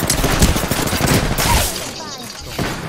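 Rapid bursts of gunfire from the video game Apex Legends rattle in dense volleys, with voices talking over the shots.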